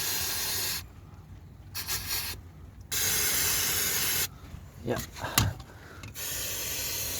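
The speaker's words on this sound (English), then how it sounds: "Spray the gearbox" Dynax underbody protection sprayed under a Ford Focus Mk1, around the tie rods and gearbox: long, loud bursts of aerosol hiss broken by short pauses, with brief speech in between.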